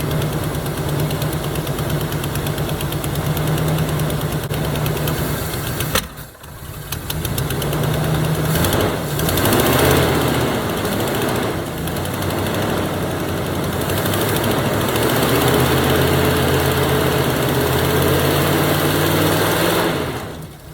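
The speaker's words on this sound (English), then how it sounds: "Hold it. It's idling." A 1977 Chevy Camaro engine, suspected of a stuck lifter, idles steadily and close by for the whole stretch, its low rumble briefly dipping once and then shifting in pitch as the revs change.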